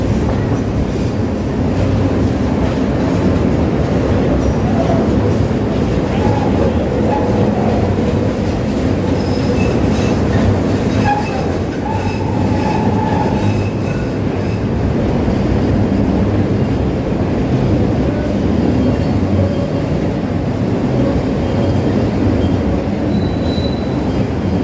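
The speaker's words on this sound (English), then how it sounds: "we got an orange line going the other way here" A Chicago Orange Line elevated train passes overhead in the Loop near Lake Street, a loud, steady rumble of wheels on the rails with squealing metal that continues for the whole stretch, with no voices.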